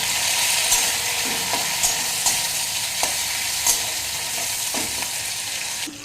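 Onions and tomatoes fry in a pan with ginger, garlic and green chilli for a soybean and potato curry. A loud, steady sizzle runs throughout, broken by repeated stirring scrapes and light clinks.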